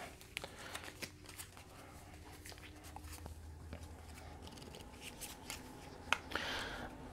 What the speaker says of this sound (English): as I'm shuffling the cards